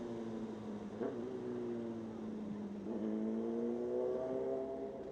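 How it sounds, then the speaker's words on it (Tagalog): Several motorcycles with rising and falling engine whines ride along a road during a year-end group ride to Baler, in a steady drone with pitch sweeps as the engines rev and settle, steady throughout. "May motor, may motor!"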